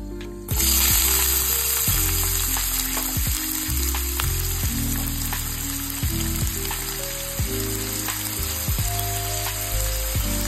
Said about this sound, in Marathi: हाय फ्लेमवर कांदा चांगला परतवून घ्या लाल होईपर्यंत